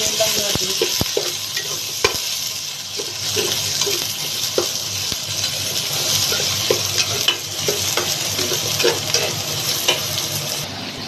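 Sliced onions frying in a pan for papaitan, a continuous hiss of sizzling oil with frequent clicks and scrapes of a stirring spoon, close and fairly loud with no talking.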